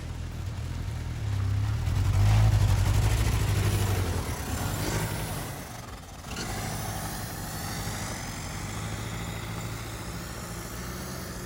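A Nissan 720 pickup truck engine idling after being revived, a steady low rumble that swells slightly early on, dips briefly, then settles back into an even drone, close and continuous with no talk.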